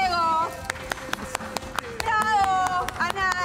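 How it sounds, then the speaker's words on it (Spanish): Sparse, scattered claps at a school fair game booth, sharp separate hand claps over constant talk and bright musical tones, more like a few people clapping than full applause. "¡Palmas, por favor, para el Diego!"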